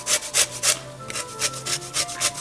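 Lemon being zested for cranberry apple sauce, a series of quick rasping scrapes in a steady back-and-forth rhythm, close and fairly loud, with no talking.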